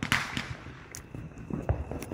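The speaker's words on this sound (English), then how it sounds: "Those are fireworks." Fourth of July fireworks go off outdoors in a quick series of sharp cracks and pops, several bursts at moderate distance over about two seconds.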